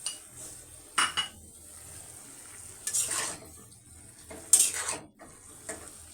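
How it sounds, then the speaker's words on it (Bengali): A spoon stirring cornflour slurry into a pot of simmering vegetable curry, soft scraping and clinking against the pot in a few separate bursts over a faint bubbling background. "তাই আমি এখানে কর্নফ্লাওয়ারটা গুলিয়ে দিলাম।"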